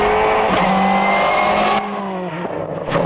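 Peugeot rally car accelerating away on tarmac during a pre-rally test: a loud, close engine scream climbing through the revs, with a brief lift for a gear change before it pulls again.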